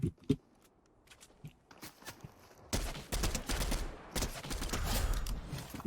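Bursts of gunfire in the Fortnite video game, with a few scattered shots early on, then a dense, rapid volley of loud cracks and clatter filling the second half, with no talk.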